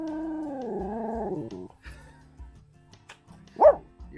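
A dog vocalizes nearby with a long, wavering whining howl followed by quiet pauses and a single short, sharp bark or yip near the end.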